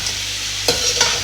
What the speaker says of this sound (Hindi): अब आपने इसकी अच्छे तरीके से मिक्सिंग करनी है ताकि तमाम वेजिटेबल और चिकन इसमें अच्छी तरह से मिक्स हो जाए